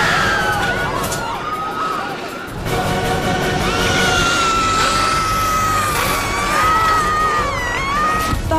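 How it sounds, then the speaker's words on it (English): A long, high, wavering scream on a game show rises above loud crowd noise and commotion, sustained for several seconds with sliding pitch. "That was the most blood-curdling scream."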